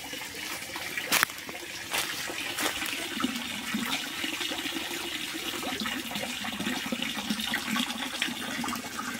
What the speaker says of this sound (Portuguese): Literalmente saindo água pelo ladrão aqui, ó.